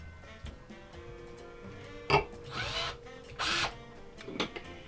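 Several short bursts of a power drill whirring and grinding into a hard coconut shell, separated by quieter pauses.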